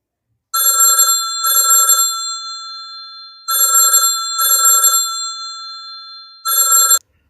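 A telephone bell rings in three separate bursts, each a loud double ring with gaps of silence between them. No voices are heard.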